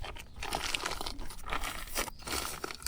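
Plastic nursery polythene bag crinkles and crunches as a mango plant is eased out with its root ball, a close, fairly quiet run of irregular rustling crackles lasting a few seconds.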